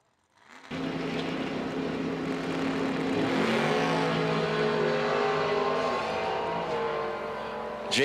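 Drag racing cars, including the Mosier Engineering Camaro in the right lane, launch with a sudden loud roar that holds as a sustained, harsh engine howl before easing slightly at the end.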